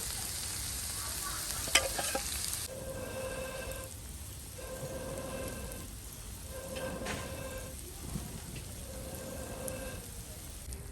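Fish frying in coconut oil in a pan over a wood-fired stove, a steady sizzle throughout with a sharp clatter near the start and soft scraping and stirring sounds that come and go, close and moderately loud.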